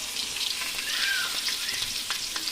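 Potato pieces fry in hot oil for a mutton curry, producing a continuous bright hiss and crackle up close, with occasional small pops throughout.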